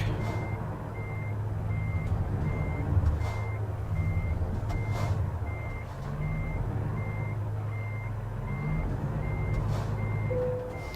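A truck reverses to couple a trailer in American Truck Simulator. Regular reversing beeps repeat steadily over a low diesel engine rumble, with occasional brief air hisses.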